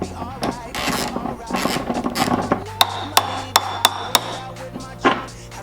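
Wiper arms on a Ford Sierra Sapphire RS Cosworth are taken off by removing their 10mm nuts, giving close metallic clicks, scrapes and a quick run of sharp ratchet-like taps, with a person talking throughout.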